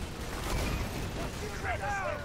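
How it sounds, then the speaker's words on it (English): Explosions going off in Borderlands 2 during chaotic combat, a loud continuous rumble with bursting blasts and mechanical whirring, mixed with game effects. "Holy shit, explosions"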